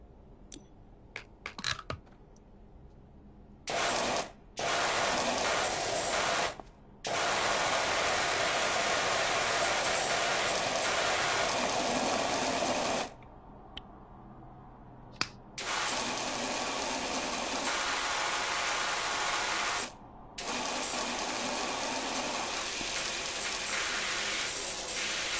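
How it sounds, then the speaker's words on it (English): Steady spraying hiss of a light duty pressure washer in the game PowerWash Simulator, running in long continuous bursts of several seconds each, separated by brief pauses and small clicks. "Put on our light duty pressure washer."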